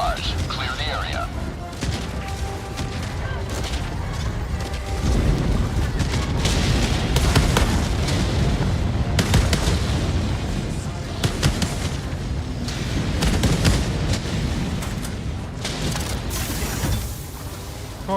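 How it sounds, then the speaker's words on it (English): Orbital barrage in a Warhammer shooter game: heavy booming explosions and artillery-like blasts roll in over continuous gunfire. The blasts are loud and sustained, and voices are heard amid the din. "Firing orbital barrage."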